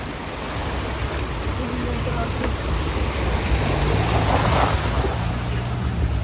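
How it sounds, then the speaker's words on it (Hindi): Abundant water flows and rushes in a jungle at Jim Corbett's Dhikala zone, a loud, steady broadband roar that swells slightly toward the middle and continues unbroken throughout. "काफ़ी ज़्यादा पानी।"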